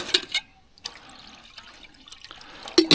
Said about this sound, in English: Put a bit more water in.